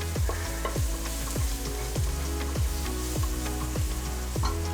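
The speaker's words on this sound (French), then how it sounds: "On va mélanger un petit coup pour activer les épices." Garlic, shallots, ground ginger and other spice powders fry in a pan under a continuous loud sizzle, while a spoon scrapes through them in regular rhythmic strokes.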